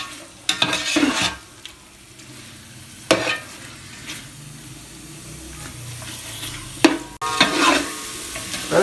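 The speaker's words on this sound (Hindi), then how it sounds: "अब इसको हम ज़रा इसमें से इसको भून लेंगे।" Chicken for biryani being stir-fried (bhuna) in a pot, several loud scraping stirs in separate bursts over a soft background sizzle, with quiet gaps between them.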